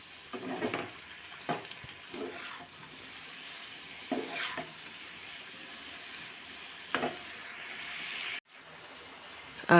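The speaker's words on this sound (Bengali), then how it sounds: "নুন হলুদ দিয়ে এবার একটু ভাজা ভাজা করে নিচ্ছি" Vegetables fry with salt and turmeric in a non-stick pan, giving a steady low sizzle broken by a few louder scraping stirs of a spatula, with no talk.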